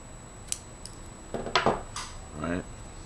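Scissors snip ribbon streamers for a carnation corsage: a few close, crisp cuts with short rustles of ribbon between them, and a faint steady whine in the background.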